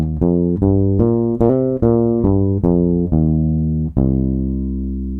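A minor pentatonic scale played on bass guitar as a run of about nine plucked notes, up then down, close and clear, with the last low note sustained and fading; nobody speaks.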